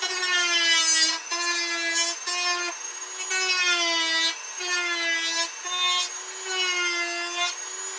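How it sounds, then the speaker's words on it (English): Excess plastic is trimmed off a stormtrooper costume bicep piece, giving repeated squeaky, scraping cutting strokes in a steady back-and-forth rhythm with brief gaps between passes, close and alone. "So I'm going to trim all of this excess off."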